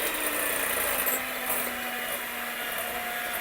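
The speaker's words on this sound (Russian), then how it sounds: "взбиваем дальше" An electric mixer whisks meringue for a bird's milk cake while hot caramel is streamed in, giving a steady, loud, even whir with no break.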